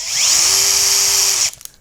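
A power drill fitted with a small bit runs loud and close for woodworking on a scroll saw candle arch project, a steady high whine that rises in pitch at the start and then cuts off abruptly.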